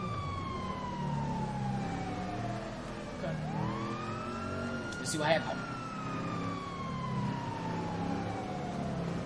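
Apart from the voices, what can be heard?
police siren in video game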